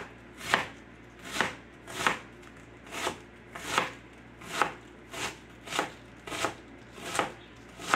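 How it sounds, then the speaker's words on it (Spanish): A knife chops crisply through fresh cabbage in a steady rhythm, about ten firm crunchy strokes, close and clear with no talking. "Está bien fresco este repollo, por eso se oye así."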